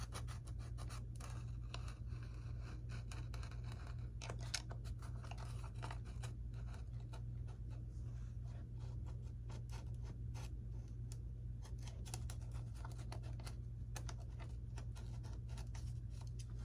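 Foam about half an inch thick being cut on a Dynam F6F Hellcat RC model airplane: a faint, steady scratching and scraping close by, in irregular strokes over a low background hum, with no speech.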